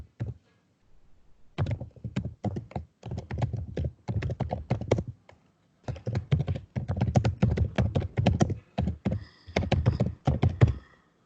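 Computer keyboard keys clatter in quick, uneven bursts of typing, close and fairly loud, with short pauses between runs and no talking.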